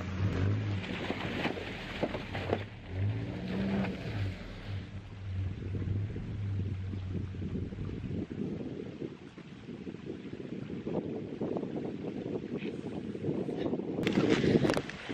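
A loaded truck fords a creek, its engine droning low and steady while water sloshes and churns around the wheels, with wind buffeting the microphone; the effort eases midway and builds again toward the end.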